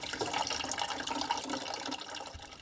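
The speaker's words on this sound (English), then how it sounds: "We'll just let that drain." Water drains out of a van's onboard water system in a steady trickling, splashing flow, close and moderately quiet, continuous with small fluctuations and no talking.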